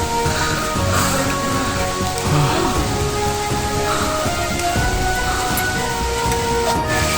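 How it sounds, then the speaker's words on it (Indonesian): Steady rain falls, a continuous hiss of drops with occasional faint tapping, no voices. "Sudah mulai turun hujan."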